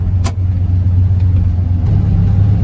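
A 1972 Dodge truck's engine drones steadily while driving, a loud, deep low rumble with a slight rise in pitch and no talking.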